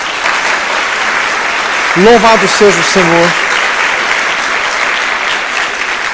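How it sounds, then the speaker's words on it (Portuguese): Church congregation applauding in a broad, steady wash of clapping that runs the whole time, loud and close, while a voice calls out praise over it partway through. "Dê uma salva de palmas ao Senhor."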